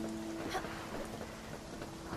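Steady rain and thunder in the video game Spiritfarer, a continuous even wash of rainfall noise with soft sustained game music tones beneath it.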